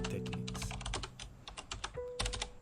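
Rapid typing on a computer keyboard, a dense run of close, crisp key clicks with brief pauses and a faint electronic tone underneath.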